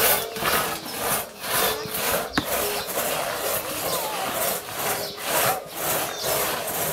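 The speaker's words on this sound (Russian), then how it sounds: "какими они пилами пилят." Wood is cut with hand saws in close, loud back-and-forth strokes that repeat in a steady rhythm of roughly one or two per second throughout.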